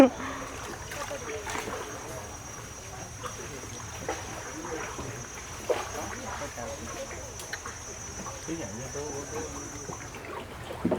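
Boats move along a busy river in the Mekong Delta, with a continuous wash of water and motor noise, scattered splashes and a steady high insect-like whine throughout, and voices in the background.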